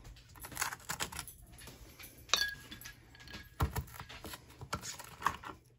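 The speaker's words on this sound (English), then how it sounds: "I'm going to put 3 ice cubes in my glass" Three regular ice cubes dropping into a glass, giving a few sharp clinks spread across several seconds amid light handling noise.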